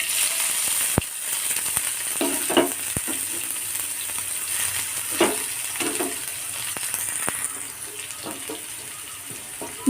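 Crushed onion, garlic and dried chili fry in hot oil with mustard seeds for a chutney, giving a continuous close sizzle broken by scattered clicks and stirring scrapes, with no talking.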